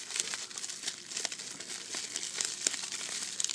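Packaging on a cosmetics subscription box crinkles and rustles as it is opened, with sharp close crackles and small tearing bursts scattered throughout, fairly quiet and alone.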